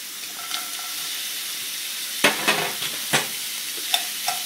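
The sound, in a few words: frozen peas added to frying onions and stirred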